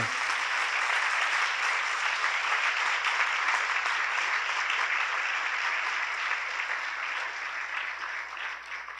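Audience at a talk on a Eucharistic miracle giving a big, sustained round of applause, dense even clapping filling the whole stretch and easing slightly toward the end.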